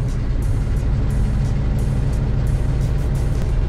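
A Ural logging truck's diesel engine runs with a steady, loud low rumble close by, with faint periodic clicks above it and no talk.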